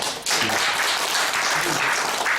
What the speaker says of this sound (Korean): 모두 박수로 같이 끝내주시고.